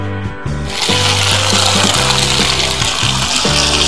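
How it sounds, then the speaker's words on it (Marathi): Water is poured into a thickening chicken stroganoff sauce, a steady loud gush starting after a brief moment and running to the end, with tonal cartoon-like background music underneath. "आपण याच्यामध्ये थोडंसं पाणी टाकून घेऊया"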